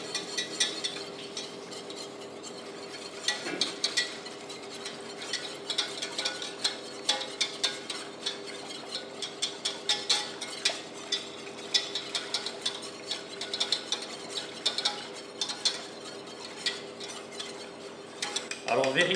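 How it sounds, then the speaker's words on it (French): A utensil scrapes and clinks steadily in a pan while chicken stock is poured into a roux for a vol-au-vent sauce. The rapid metallic ticking runs over a soft continuous hiss and is fairly close. "Vous commencez à verser, une fois votre roux réalisé, votre fumée"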